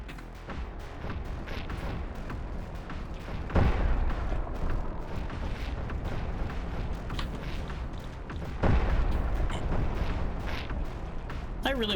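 Missile launcher explosions in the underwater game Codename: Ocean Keeper, two heavy booms several seconds apart rising from a dense rumbling battle din, loud and continuous, with a voice talking throughout.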